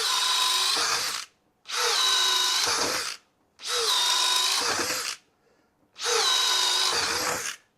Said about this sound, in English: we've got a 1-inch drill bit chucked up into our drill driver